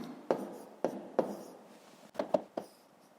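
A pen writes numbers by hand on paper while a maths problem is worked out, making a series of short, close, scratchy strokes in quick bursts with brief pauses, and no voices.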